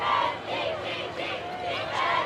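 A Crusader crowd at a high school football game between Bishop Gorman and All Saints sends up a steady, fairly distant roar of cheering and chatter that swells and dips, with a voice faintly over it.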